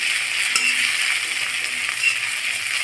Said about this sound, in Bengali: রসুন ও কাঁচামরিচ ভালোভাবে ভাজা করে নিব।